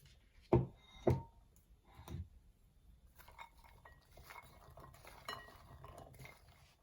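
A utensil mixing ginger and garlic paste in a bowl gives two loud clinks against the side, a softer knock, then quiet, continuous scraping and stirring.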